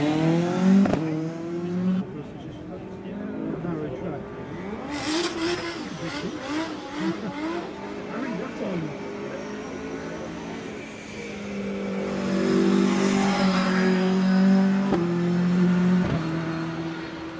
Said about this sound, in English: it looks like we've got another drift car there